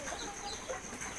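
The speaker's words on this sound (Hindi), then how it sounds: "इसमें डबल FG के 3 मुर्गे हैं, एक असील क्रॉस है और जंगली इसका उस्ताद है।" Jungle fowl and Aseel cross roosters with double FG roosters on a farm near Lucknow, giving soft, faint clucking against a steady background hiss.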